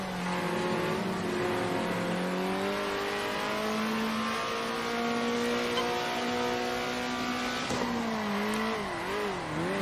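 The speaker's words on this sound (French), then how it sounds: "prendre le temps d'entendre vraiment les sons du jeu, donc des voitures et tout" Racing cars in the Circuit Superstars video game, engines droning steadily and rising in pitch as they accelerate, with one engine wavering near the end, loud and continuous with no talk.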